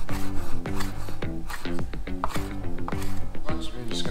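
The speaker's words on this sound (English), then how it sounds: "you just need to chop them up now into nice little bite-sized pieces" A knife cuts alikreukel sea snail meat into bite-sized pieces on a board, making a series of close, crisp chopping knocks. A person talks over the chopping the whole time.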